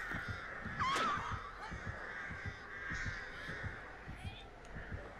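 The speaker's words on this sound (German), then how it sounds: "Die schickt nämlich die Raben jetzt über die ganze Map" Ravens in the horror video game Dead by Daylight caw sharply, one call standing out near the start, while a steady thumping heartbeat-like pulse and low game ambience run throughout.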